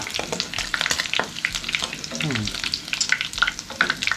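The head of a large spiny eel fries in hot oil, with close, busy crackling and sizzling and spatter pops, and bursts of stirring scrape through it.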